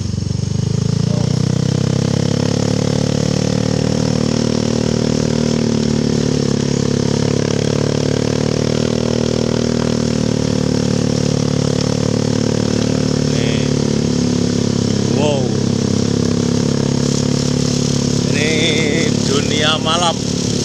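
A motorcycle engine drones steadily and loudly while riding at night along a dark forest road near Sempor, its constant low hum running through the whole stretch with someone talking over it.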